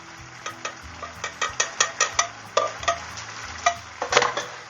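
Hamburger meat for chili frying in a pan, with a soft sizzle under repeated sharp scraping and tapping strokes from a utensil stirring against the pan at a quick, uneven rhythm.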